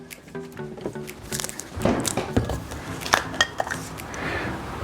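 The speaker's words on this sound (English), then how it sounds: "we get a fork and we start mixing it together" A fork clinks and scrapes against a bowl while mixing a breakfast of leftovers, with a steady run of close, light metallic taps and stirring sounds.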